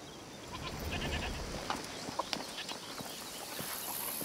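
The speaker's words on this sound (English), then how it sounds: "This is one of my goats." A goat bleats in A Plague Tale: Requiem, a few short, wavering cries over steady ambient background with faint footsteps, moderately close.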